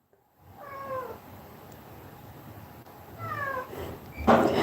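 A pet cat meows twice, short rising-falling calls spaced a few seconds apart over a steady background hiss, ending with a louder rustle or bump.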